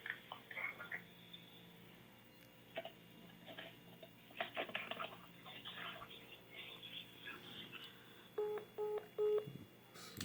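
Quiet rustling and faint movement, then a few short electronic beeps near the end as a phone call is hung up and the line goes dead.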